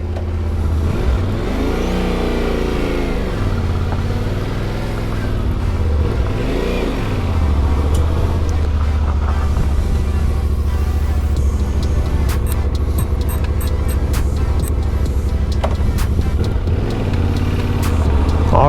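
A 2021 Yamaha Tenere 700 is ridden with its engine rising and falling through several loud revving surges, heard from the rider's position under heavy, buffeting wind noise on the microphone.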